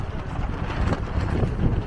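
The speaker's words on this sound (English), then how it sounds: "At a little windy rest stop." Wind buffeting the microphone at a rest stop on the Tiger Leaping Gorge hike in Yunnan, China, in loud, gusty rumbles that surge and dip continuously, with no voices.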